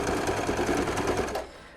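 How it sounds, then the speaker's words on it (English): A sewing machine runs in a quick, even mechanical rattle while stitching an elf stocking, sewing with a reverse stitch at the start, then stops abruptly near the end; no talking. "So we go back to the sewing machine again."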